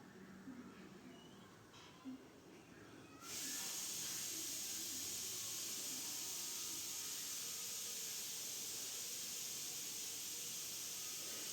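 Ground onion paste sizzles in hot oil for chole, starting as a low quiet fizz and then rising sharply into a loud, steady hiss that carries on to the end.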